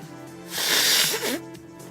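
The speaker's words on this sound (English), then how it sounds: "Oh, gotta blow my nose." A person blows their nose in one loud, breathy honking burst lasting about a second, close up, followed by a brief snuffle.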